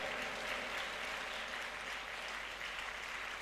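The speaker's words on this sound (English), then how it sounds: "put your hands together for our final shortlisted" An audience at a university summit in Cape Coast claps continuously, a dense, even wash of applause that holds steady throughout.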